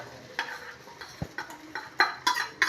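Egg poured into an oiled pan hisses faintly while a utensil scrapes and taps against the pan in irregular strokes, with a few sharper clinks near the end.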